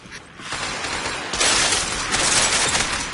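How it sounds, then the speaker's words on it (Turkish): Mechanical clicks and rattles of a gun magazine being swapped in the video game Hounds, close and continuous, set against a dense wash of game noise with a brighter, louder stretch in the second half. "Şarjör değiştiriyorum."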